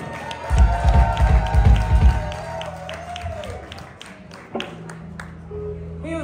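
An audience applauds and cheers for David Rhodes Brown at a tribute set, loud dense clapping with whoops for about two seconds that then thins out to scattered claps and murmurs.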